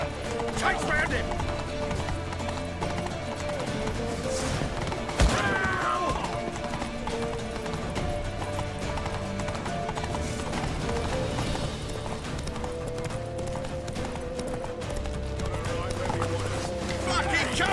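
Rapid hoofbeats of galloping horses in The Witcher 3: Wild Hunt under a dense game soundtrack of music and effects, with a sharp crash partway through.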